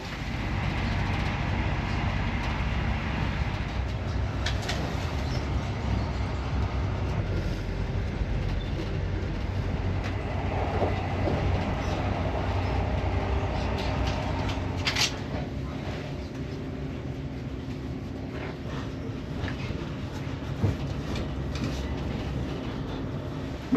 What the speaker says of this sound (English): This is Aberdeen, where this train terminates.